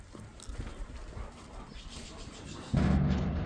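Dogs kept by a man living with many dogs in a village, barking and whining in a noisy outdoor jumble, with a sudden louder, closer burst near the end.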